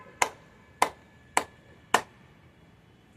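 Four sharp hand claps land about half a second apart during a frozen-shoulder exercise, each a crisp close smack with a short decay, then a fifth begins at the end. No voices.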